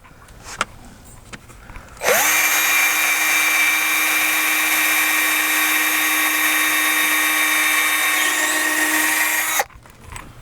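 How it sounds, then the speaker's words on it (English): A power drill whines loudly for about seven seconds in one continuous burst, drilling a pilot hole in wood, starting and stopping abruptly, with a few light knocks before it. "We don't want to split this, so we need to drill first."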